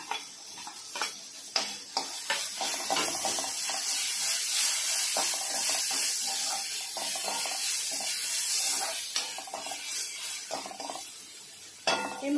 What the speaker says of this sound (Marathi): आता हे वाटण चांगलं भाजून घेऊया आपण।